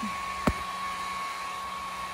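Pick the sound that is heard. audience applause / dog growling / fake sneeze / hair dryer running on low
hair dryer running on low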